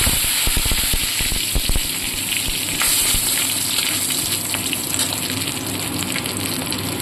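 Whole garam masala and bay leaves drop into well-heated oil and ghee, giving a steady, close frying sizzle with a few sharper crackles early on, and no talking.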